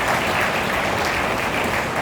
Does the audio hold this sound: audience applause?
yes